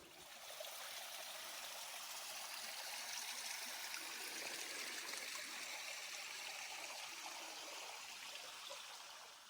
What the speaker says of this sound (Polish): I słychać strumień idę tam. Jest strumyczek